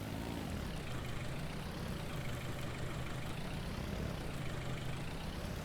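A small tractor engine idles steadily in Farming Simulator 19, a low, continuous rumble with a faint rattling texture that stays even and close throughout, with no voices over it.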